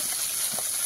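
Fish frying in hot oil gives a short, steady, close hiss and sizzle with no voices.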